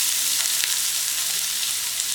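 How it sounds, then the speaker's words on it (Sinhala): Sliced onion and garlic frying in hot oil in a pan, a steady close hiss of sizzling with a few faint pops and clicks. "දැන් මේ ටික තෙල් එකේ හොඳට fry කරගන්නවා."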